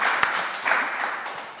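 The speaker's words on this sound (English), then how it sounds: "Give a round of applause." An audience at a live event at the Design Centre, Chelsea Harbour applauds, a short burst of moderate clapping from a crowd that tapers off quickly.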